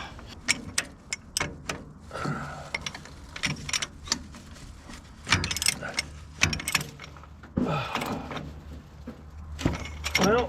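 A tool strips and clatters against the flywheel of an old tractor backhoe, producing repeated irregular metallic clicks, rattles and scrapes close by, with some talk mixed in.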